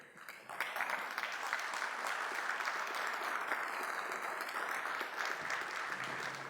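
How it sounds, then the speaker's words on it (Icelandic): Audience applause at an Icelandic residents' meeting about the future of Breið, a steady, dense round of clapping from a seated crowd that continues alone for the whole stretch. "Gefum honum gott klapp."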